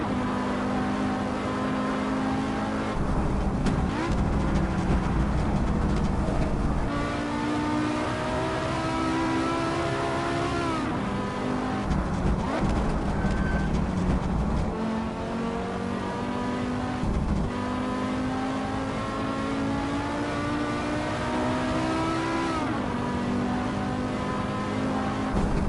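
Race car engine in the Assetto Corsa racing game, loud continuous high revs rising and falling through repeated gear shifts and corners, with no talk.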